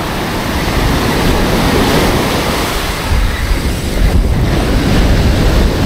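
Ocean surf breaks on a New Jersey beach before sunrise during a fall striper fishing run, a loud, steady wash of crashing waves with a heavier surge rolling in around the middle, with no voices.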